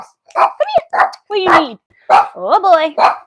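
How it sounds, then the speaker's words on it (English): A pet dog lets out short yips and whimpering barks at close range, mixed in with someone talking to it over the sounds. "Sorry for the barking."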